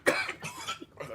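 A single sharp cough bursts out near the start, followed by rough throaty bursts that could be more coughing or muffled vocal sounds, close and fairly loud in an informal conversation between friends.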